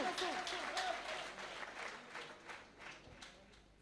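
Audience applause for the poet Saif Tabassum at a poetry gathering, a fading patter of clapping with a voice speaking over it.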